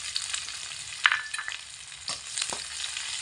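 Chopped onion, green chili and garlic fry in a pan with a steady hiss of sizzling oil and a few sharp scrapes and clinks of stirring, close up with no voices.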